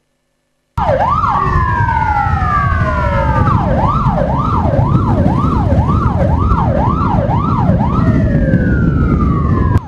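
An ambulance siren wails continuously and loudly, alternating a rising-falling yelp with long sweeping tones, over steady road noise with no talking.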